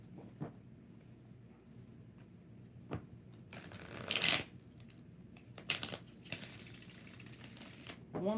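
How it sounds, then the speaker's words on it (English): Tarot cards shuffled by hand in quiet sporadic bursts, with soft riffles and brisk flurries of card flicks separated by short pauses, near and fairly soft over a low room background. "One more shuffle."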